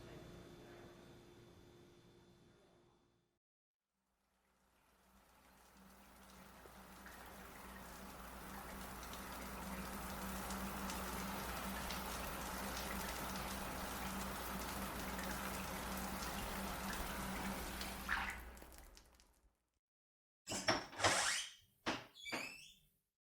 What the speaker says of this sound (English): It's really a powerful shower.